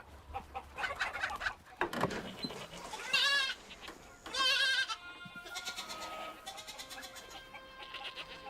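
A baby goat bleats repeatedly in wavering, high cries mixed with clucking chickens and birdsong in a farmyard, moderately close but fairly quiet.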